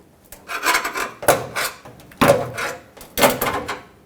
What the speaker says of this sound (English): Take a trim tool and just lift up on the push clips